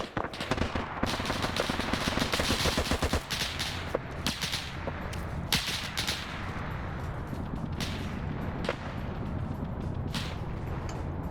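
Rapid, continuous gunfire from an L-39 jet in the video game Arma, heard as dense bursts and sharp cracks over several seconds amid a busy battle soundscape.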